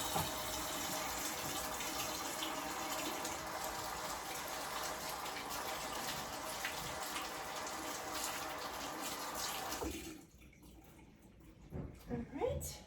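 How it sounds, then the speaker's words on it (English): A kitchen faucet runs in a steady, loud rush as hands are washed of egg while baking cookies, then cuts off near the end, leaving a few small splashes and handling noises. "I'm gonna wash my hands because I got a little egg on them."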